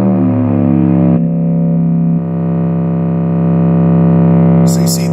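A no-input effects pedal feedback loop produces a loud, buzzy, bassy sustained drone with stacked harmonics that shifts pitch in steps, ending with a brief harsh high burst on top.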